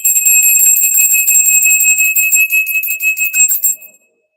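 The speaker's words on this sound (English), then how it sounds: "We're going to clear the energy with the solar plexus chakra bell." A solar plexus chakra bell struck once, ringing bright and close with sustained metallic overtones that pulse gently, then cut off after about four seconds.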